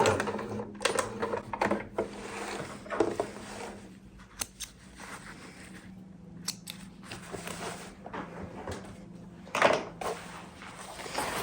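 A sewing machine back stitching over a seam on an apron, giving irregular clattering bursts of needle action with quieter pauses between them and a louder burst near the end.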